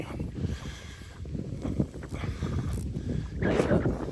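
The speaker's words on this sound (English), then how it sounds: "Oh, it's going to be windy." Wind buffets a handheld microphone while walking down a street, a continuous low rumbling roar with gusty surges, loudest near the end.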